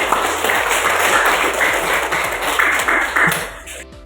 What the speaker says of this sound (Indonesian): tepuk tangan untuk Mas Ria